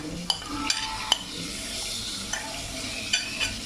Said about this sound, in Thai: ทอดเนื้อไปด้วย เสียงทอดเนื้อ